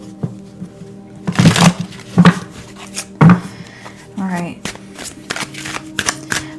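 Slippery tarot cards shuffled in a few brisk bursts, close and fairly loud, with someone speaking briefly between the riffles.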